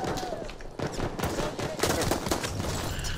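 Bursts of rapid gunfire crackle and pop in quick succession, dense and loud, with chaotic combat noise throughout, in Battlefield 1 multiplayer.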